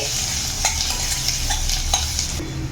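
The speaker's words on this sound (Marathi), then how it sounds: "आता हे सर्व छान आपल्याला एक मिनिटासाठी आपण हे फ्राय करून घ्यायचं आहे तेलामध्ये" Asafoetida and coriander frying in oil for Maharashtrian pithla give a steady, fairly loud sizzle with a few light spatula scrapes against the pan, heard close and alone.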